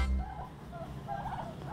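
Chickens being chased in a coop give soft, scattered clucks and warbling calls at moderate distance over a low rumbling background, with no clear talk.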